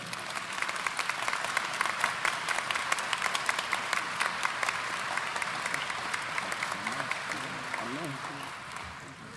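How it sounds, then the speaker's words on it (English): An audience at an awards presentation gives a sustained, warm round of applause, steady dense clapping filling the room before fading near the end, with a voice briefly audible underneath. "Can we give them a warm round of applause?"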